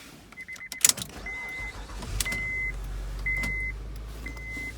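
A car is started with the key: clicks and a short burst of chimes give way to a low engine rumble that settles into a steady idle, with repeated warning beeps sounding over it.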